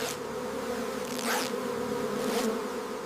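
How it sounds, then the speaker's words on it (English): Bees buzz steadily around a hive at a honey farm, a continuous close drone with brief louder swells as individual insects pass near. "Don't panic around the bees."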